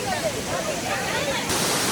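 Soochipara waterfall in Wayanad roars with a steady, loud wash of rushing water, continuous and dense throughout with no pauses.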